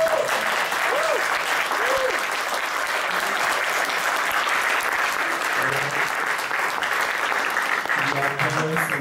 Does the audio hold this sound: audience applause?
yes